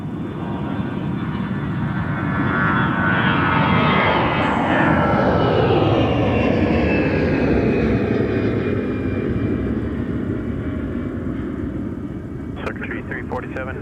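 A Delta airliner takes off from runway 30 left at Minneapolis–St. Paul airport, its engines roaring loud and steady for the whole stretch with a slow rise and fall as it climbs away. Faint talk sits underneath.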